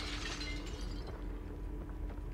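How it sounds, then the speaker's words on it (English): Glass shatters in a survival horror game, The Evil Within, as enemies smash windows: a bright crash burst at the start that decays into crackling debris over a steady low hum. "I hear guys smashing windows."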